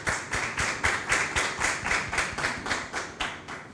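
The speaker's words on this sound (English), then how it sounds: "round of applause" Applause at a formal meeting on legal reform about violence against women, heard as a run of evenly spaced, fairly loud claps in a steady rhythm with no talking.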